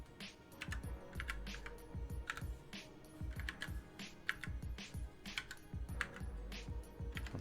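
Continuous computer keyboard typing, close and fairly loud, with irregular bursts of keystrokes and short pauses throughout, no talking.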